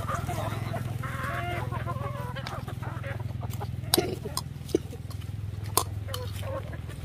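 Hens cluck and fowl call around a rural chicken farm, with a steady low engine-like hum beneath, a few sharp knocks, and people talking nearby throughout.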